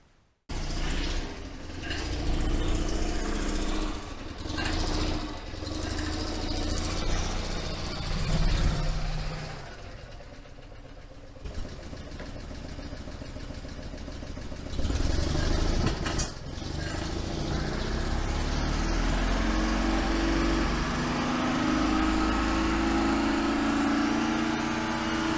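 Invacar invalid carriage engine running steadily on a drive on a sunny day, a continuous loud mechanical drone with rises and dips in revs, close and alone with no talking.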